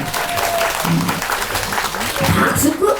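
Audience applause at a live Korean pumba folk performance, steady clapping running throughout with a crowd presence and a voice talking over it.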